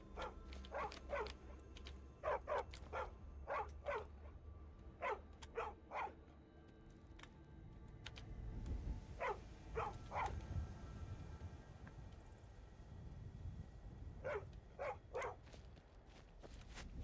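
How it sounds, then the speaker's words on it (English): A stray dog in the video game Skyrim barks in short repeated bursts, several clusters of sharp barks spread across the span, with footsteps and low rumbling ambience between them. "Stray dog."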